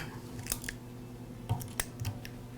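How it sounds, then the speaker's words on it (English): Needle nose pliers pull a brush wire free inside a DeWALT angle grinder under repair, making a few faint, sharp metallic clicks and snips spread over a couple of seconds, close by and quiet, with no voice. "I'll use a pair of needle nose pliers to pull it away."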